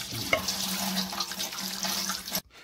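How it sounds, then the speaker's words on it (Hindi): Cold tap water poured over boiled noodles in a strainer, a steady splashing gush close by that stops abruptly at the end. "फौरी तौर पर हम इसके ऊपर ठंडा पानी डाल देंगे इस तरह से"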